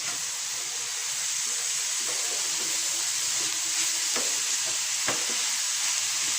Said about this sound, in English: Now I'm going to put the leeks. Green chilies. Now stir it.